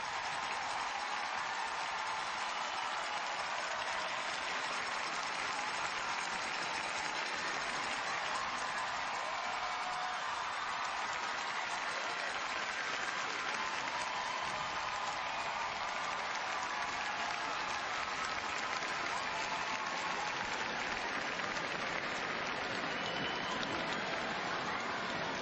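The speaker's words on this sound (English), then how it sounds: "Kim has the crowd on its feet" A Los Angeles arena crowd at the 2009 World Figure Skating Championships applauds Yu-Na Kim's short program, a dense, sustained roar of clapping and cheering that fills the whole stretch without letting up.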